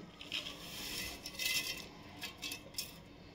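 Ground sun-dried tomato powder sieved through a metal strainer, giving faint, soft scraping and light metallic clinking in short irregular bursts with no voices.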